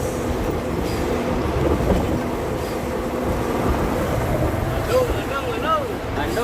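Steady rumble of a train rolling along the tracks in Indonesia, continuous and fairly close, with a few faint squeals and a voice speaking briefly over it.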